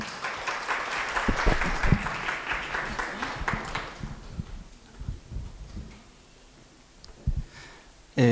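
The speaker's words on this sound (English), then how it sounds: "Can we clap for Black Excellence?" An audience at a university research-chair event claps together, a dense burst of applause that thins out after a few seconds into a few scattered claps, with brief noises near the end.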